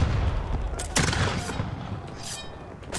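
Gunfire in the naval combat game Blackwake: a few sharp bursts of shots among booming battle noise, fairly quiet and under the mix.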